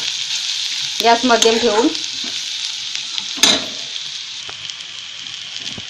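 Arbi leaf rolls (aluvadi) stir-fry in a pan with a steady, close sizzle and scraping stirs, while a voice speaks briefly over it.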